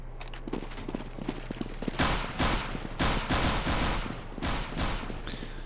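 Rapid gunfire crackles through a Counter-Strike: Global Offensive match in a tournament final, with dense overlapping shots and bursts sounding loud and continuous over the game's background.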